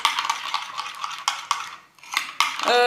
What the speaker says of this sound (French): Donc, je mélange.